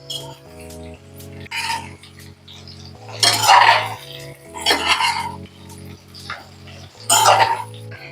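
Stuffed okra (bharwa bhindi) is gently turned in a pan, making four clattering, scraping bursts of utensil against metal, spaced a few seconds apart, over a steady tonal background.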